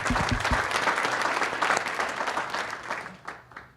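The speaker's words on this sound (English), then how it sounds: "And a little round of applause for" A conference audience at a cannabis industry leadership event gives a round of applause for a military veteran, a dense patter of clapping that holds for a few seconds and then thins out and fades near the end.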